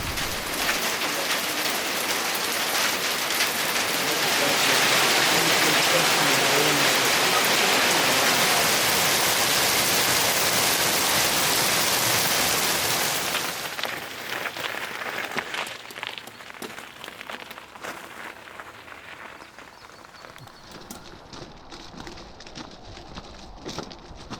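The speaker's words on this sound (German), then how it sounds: "Es hat mal wieder angefangen zu regnen." Heavy rain and hail during a thunderstorm on a mountain bike ride in the Dolomites, a loud dense roar that eases after about 13 seconds into scattered, lighter patter and drips.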